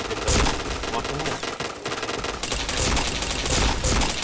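Bursts of automatic gunfire in the video game Point Blank: repeated rattling volleys with brief gaps between them, loud and close.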